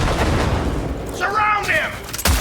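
Gunfire in the video game Cyberpunk 2077 rattles continuously beneath a shouted voice, ending in a sharp, loud blast.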